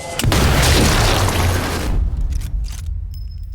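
A sniper rifle shot in Sniper Elite 4 cracks out loud and close with a deep booming blast that rolls and decays over several seconds, followed by faint game ambience.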